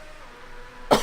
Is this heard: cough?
yes